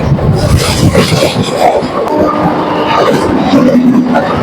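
Bongaon to Ranaghat local train running at speed, giving a steady loud rumble of carriage and rail noise with faint rhythmic clatter throughout, a voice briefly audible underneath.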